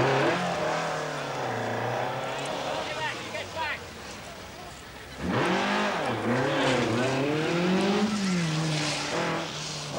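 A rally car on a gravel stage brakes hard, its loud, close engine note dropping and wavering as it slows, then surging back into a rising rev after a brief lull.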